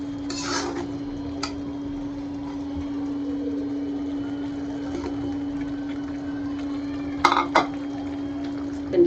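Chicken is stirred into fried masala in a cooking pot for biryani, with a steady hum throughout and a few brief, close clattering scrapes of the utensil against the pot.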